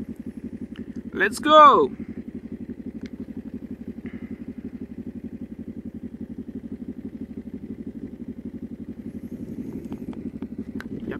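A motorcycle engine fires up and settles into a steady, even idle that runs throughout, with a brief shout of speech near the start.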